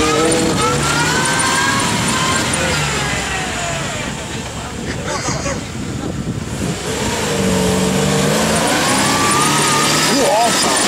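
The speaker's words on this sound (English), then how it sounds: "Listen to that V8 go." Land Rover V8 engine roaring at full throttle while driving off-road, a loud, sustained revving drone that dips briefly and climbs again, with voices shouting over it.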